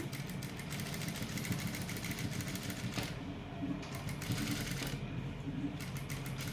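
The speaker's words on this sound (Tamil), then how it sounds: "ஸோ நான் ஸ்டிச் பண்ணுற பாருங்கள், கேன்வாஸை தொடாமல் தைக்கணும்." A sewing machine stitches a neckline along canvas, a steady mechanical whir with rapid stitch pulses and short pauses partway through.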